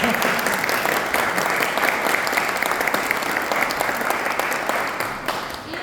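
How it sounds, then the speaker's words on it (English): An audience at a church theology talk gives Dr. Moore a round of applause: sustained, even clapping from many hands, filling the room at a steady level before easing slightly at the end. "Let's give him a round of applause."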